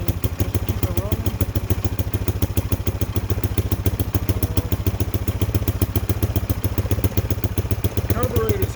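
Small Chinese ATV engine running rough with the throttle held open just to keep it alive, a loud, close, rapid clattering putter pulsing steadily throughout, with someone talking over it.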